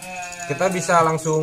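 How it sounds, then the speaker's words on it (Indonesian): A neighbour's sheep bleats in a few wavering calls beside a wild civet-taming setup, while someone talks over and between them. "ada suara-suara yang mengganggu, itu suara domba tetangga ya."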